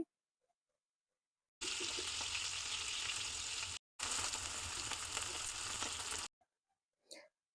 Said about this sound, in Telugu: ఇదే ప్యాన్లో ఎండుచేప ముక్కలను కూడా వేసుకొని బాగా ఫ్రై చేసుకోవాలి